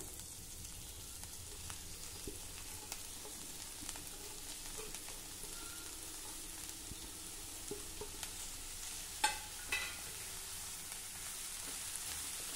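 Chopped spinach sautés over medium heat in a pan with dal and peanuts, giving a faint, steady sizzle throughout with a couple of brief utensil clinks near the end.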